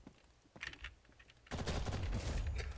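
Gunfire from the online shooter Ghost in the Shell First Assault, a few scattered shots at first, then a dense, loud burst of rapid automatic fire.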